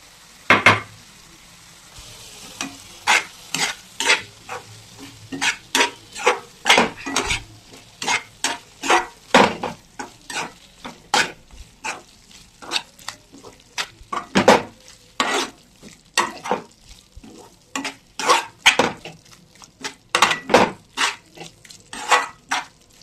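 Spoon stirring masala into liver frying in a pan, a long run of sharp, rhythmic scraping and clinking strokes against the metal over a low sizzle, close and fairly loud.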